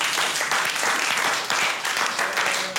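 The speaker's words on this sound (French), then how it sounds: "vous applaudir bien fort. Bravo!" Finalists at an opera singing audition in Burkina Faso applaud themselves in a thick, sustained wash of clapping that pulses slightly but never drops out.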